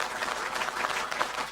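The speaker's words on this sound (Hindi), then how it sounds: "तो जोरदार तालियां गौरव के लिए" Audience applause at an evening Hindi poetry gathering in an Indore garden, welcoming a geet poet: a short burst of dense, steady clapping from a crowd.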